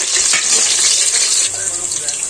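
Onion and green chillies frying in a pan, a steady loud close sizzle that eases slightly partway through, with no talk.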